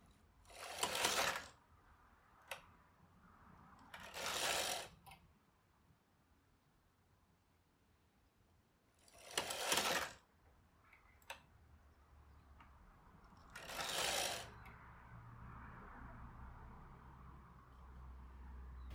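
A knitting machine carriage swishes across while knitting a lace shawl, four long sliding passes spaced several seconds apart with small clicks between them, close and fairly quiet with no talking.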